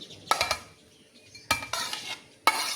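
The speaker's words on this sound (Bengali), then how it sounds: "এই যে দেখুন সসের সাথে কিন্তু আম্মু এগুলোকে মিশিয়ে নিচ্ছে" A spoon mixes grated boiled eggs with sauce in a bowl for an egg sandwich filling, giving three close bursts of scraping and clinking against the bowl with short pauses between them.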